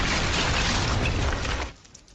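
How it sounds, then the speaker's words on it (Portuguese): A bomb explodes in a Portuguese-language parody of Fast and Furious: a loud, dense, broadband roar fills nearly two seconds and then falls away into a quieter rumbling tail. "Depois que a bomba explode"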